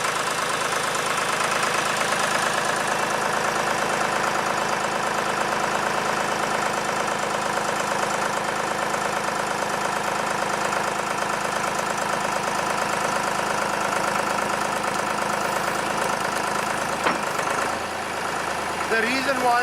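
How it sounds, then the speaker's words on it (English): A heavy SAR100 drilling rig engine idles at low speed with a steady, rattling drone, close and constant throughout; a voice is faintly present beneath it. "we are running very slow because I'm not revving the engine so that you can hear me."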